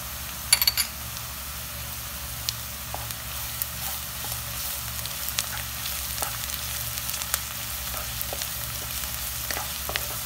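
Garlic paste frying with onions in a pan for chicken macaroni, a steady close sizzle with scattered small pops and stirring scrapes throughout, no voices.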